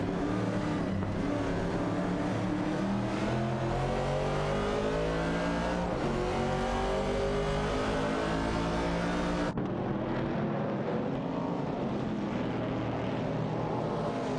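Classic race cars, a Ford Falcon and a Chevrolet Camaro, roar past on a track. Loud, rising engine tones sweep through repeated gear changes and continue without a break.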